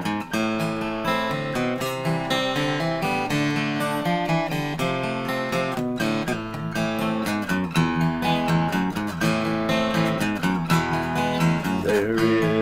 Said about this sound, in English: That means adding those bass riffs in there for the transitions and just making that song come to life.